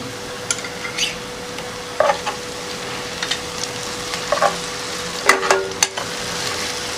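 Ginger garlic paste frying with onions in a pan for a chicken gravy: a low background sizzle broken by several scraping stirs and clicks of a spatula against the pan, with a steady faint hum beneath.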